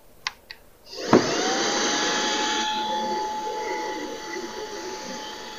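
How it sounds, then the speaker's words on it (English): A couple of small clicks, then a vacuum cleaner switches on with a sharp thump and runs steadily with a whining hum, close and fairly loud, cleaning the charcoal filter of a Coway Airmega AP-1512HH air purifier. "Now I'm going to use the vacuum to clean off the charcoal filter."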